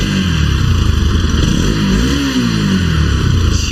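A Bajaj Pulsar NS200 with a carburetor engine revs through a throttle response check, the close engine rising and falling in a quick blip over a steady idle, loud and alone.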